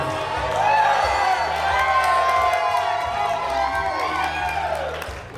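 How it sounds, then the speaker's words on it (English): Wedding guests at a reception cheer, whoop and clap for the groom and his mother, a loud burst of crowd noise that swells early and then slowly fades. "So we can get a big round of applause for the groom and his mom."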